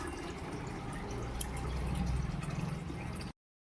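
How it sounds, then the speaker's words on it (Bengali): Water from a supply line running and collecting into a container, a continuous close rushing, gurgling flow with faint drips that cuts off abruptly near the end, no talking. "দেখো বন্ধুরা, জল চলে এসছে, জলটা নিয়ে যাই।"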